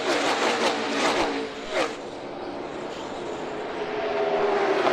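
Monster Energy NASCAR Cup Series stock cars race three wide at the All Star Race, their loud engines roaring past in a continuous, shifting drone with rising and falling pitch.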